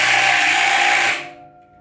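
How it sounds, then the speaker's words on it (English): A power drill with a socket spins to tighten a trailer's oil bearing nut, a loud steady whir that runs for about a second before winding down and stopping. "use the drill, not the hammer drill, the drill"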